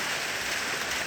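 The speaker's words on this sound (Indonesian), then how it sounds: "Hari ini hujan" Rain falling at around nine in the morning on a New Year's day, a steady, dense hiss of drops on surfaces, fairly loud and continuous, with no talk.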